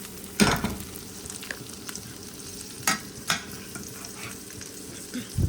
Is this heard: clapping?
no